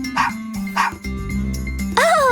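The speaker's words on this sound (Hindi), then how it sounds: "खुशी भौंकने भी लगा" A cartoon dog named Bubbles barks happily: two short yapping barks, then a longer whimpering yip, close and clear over a light musical background.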